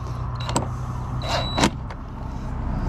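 An impact wrench tightens the nut on a rear bumper light of a 2004–06 Scion xB, giving two or three short whirring bursts over a steady low background hum.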